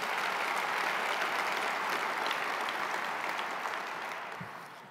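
An audience at a city's State of the City address gives a round of applause, a broad, steady wash of clapping heard from a little distance that gradually fades toward the end.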